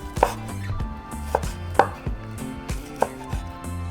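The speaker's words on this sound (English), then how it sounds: "we're going to start cutting into little cubes" A knife chops meat into little cubes on a cutting board, with a series of crisp, close knocks at an irregular, steady pace and no talk.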